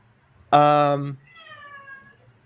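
A house cat lets out one loud, drawn-out meow close by, followed by a softer trailing cry, during a card-game discussion.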